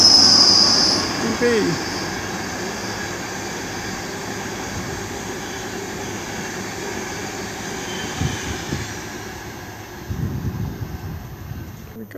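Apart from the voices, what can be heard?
Class 90 train passing fast through Finsbury Park station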